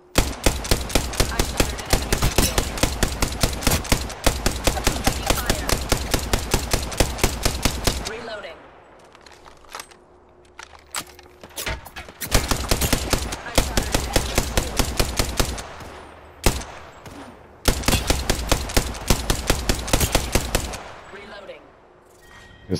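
Rapid automatic gunfire in the video game Apex Legends comes in long, loud bursts that stop for a few seconds and then resume, with scattered single shots between the bursts.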